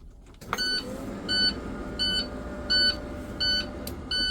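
A bus dashboard warning chime sounds after the ignition is switched to on, giving a steady series of about six evenly spaced electronic beeps over a faint idle hum.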